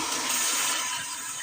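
Fresh corn is rinsed under running water, a strong, steady gush and splash close up with no pause or talking.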